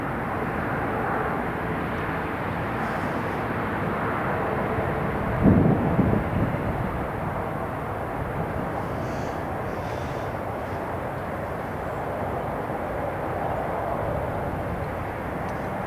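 A passenger airliner at Newcastle International Airport, its steady broadband jet roar rumbling continuously at moderate distance, with a brief louder swell partway through.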